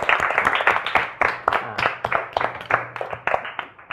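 A classroom of children claps for a student who answered a maths problem correctly, giving a dense burst of quick, overlapping hand claps that stays steady and fairly loud throughout.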